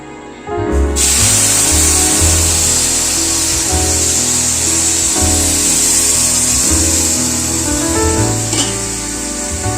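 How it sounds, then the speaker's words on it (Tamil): Coconut milk is poured into a hot pan of roasted jaggery kesari mixture. After a quiet second, a loud, sudden sizzling hiss bursts up and stays strong, easing off slightly toward the end. "இப்போ நம்ம வந்து நல்லா வறுத்ததுக்கு அப்புறமா கோகனட் மில்க் ஆட் பண்ணிக்கலாம்"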